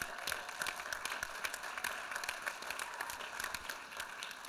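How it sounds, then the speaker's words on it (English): Applause for the Occupy movement from the audience at a Good Jobs, Green Jobs West closing plenary, a steady faint patter of many hands clapping at a distance, continuing evenly without voices. "I think we should give a round of applause to Occupy."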